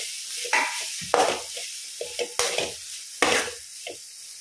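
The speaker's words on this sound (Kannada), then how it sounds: "ಅದಕ್ಕೊಂದು ಮುಕ್ಕಾಲು ಸ್ಪೂನಷ್ಟು ಅರಶಿನ ಹಾಕಿ ಇದನ್ನಿಗೆ ಒಳ್ಳೆ ಫ್ರೈ ಮಾಡುವ." Grated coconut with turmeric and curry leaves frying in hot oil for a mutton gravy. A soft sizzle runs throughout, broken by four or five sharp scraping bursts from stirring at irregular intervals.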